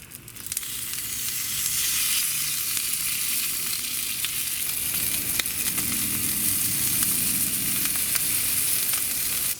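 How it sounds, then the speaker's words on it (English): Bacon-wrapped Kransky sausages sizzle on a BBQ, a loud, continuous crackling fry with scattered pops that holds steady throughout, no voices. "And now we just have to cook those sausages until the bacon on the outside's all nicely crisped"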